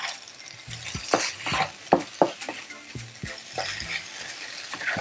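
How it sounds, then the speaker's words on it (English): Tom yum fried rice with lime juice being stirred in a hot pan, a spatula scraping and tapping against the metal in irregular strokes over a soft sizzle, close by and without talk. "I'm using white pepper to finish. And a little lime juice at the end,"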